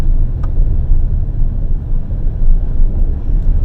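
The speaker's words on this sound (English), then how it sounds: "Now I can hear the slush flying up and hitting the bottom of the car" Hyundai Palisade on Bridgestone Blizzak tyres driving through snow slush, a loud continuous low rumble of road and tyre noise inside the cabin, with a steady undertone that suggests slush spraying against the underbody.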